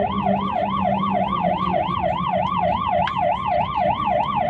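Fast, continuous yelping siren from a fire truck in Portugal, loud and close, cycling rapidly up and down over a low engine rumble.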